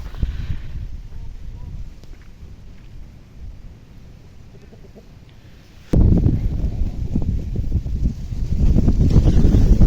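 Strong gusty wind blowing outdoors in a garden with flower beds on a cold late-autumn day, quieter at first, then a loud, sustained roaring gust from about halfway through that keeps building to the end.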